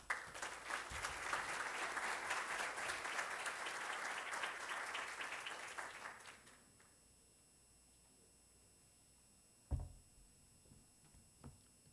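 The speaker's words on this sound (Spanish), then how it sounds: "Le brindamos un fuerte aplauso." Loud, sustained applause from a seminar audience at an academic event, filling about six seconds before fading into a quiet room with a couple of soft knocks.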